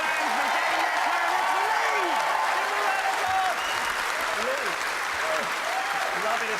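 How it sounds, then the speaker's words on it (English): A live studio audience applauds a returning guest named Lee, a dense, continuous roar of clapping with cheering voices and someone speaking over it. "Give him a round of applause!"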